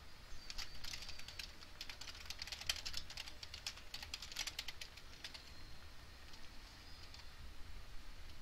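Rapid, light keystrokes clatter on a computer keyboard in bursts, close and fairly quiet over a steady background hiss, with no voices.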